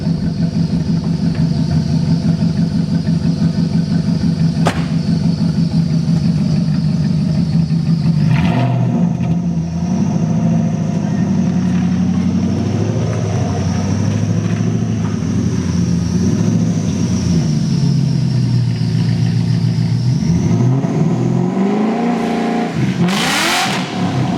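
BMW E30 drift car with a V8 swap doing a burnout: a loud engine revs hard and holds high, dips, climbs again, then cuts off sharply into a rising squeal near the end.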